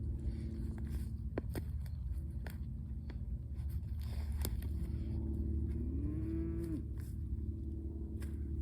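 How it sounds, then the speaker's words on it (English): Cattle on a farm pasture with grazed cover crops, one drawn-out moo rising near the middle, fairly distant, over a steady low rumble of wind or engine noise. "you may see some cows coming up behind me here"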